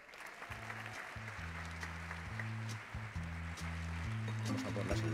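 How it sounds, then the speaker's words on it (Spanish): Applause from an audience at a sports awards gala fills the space, a dense patter of clapping with a low rumbling hum underneath, steady throughout. "quiero que recibamos en este escenario con un fuerte, fuerte aplauso a Goyo Jiménez"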